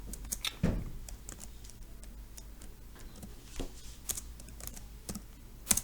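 A computer keyboard being typed on, with quiet scattered clicks and taps at an irregular pace, faint and close, with no one talking.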